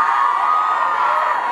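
Crowd at a live concert screams and cheers in a steady, loud, continuous roar with no break.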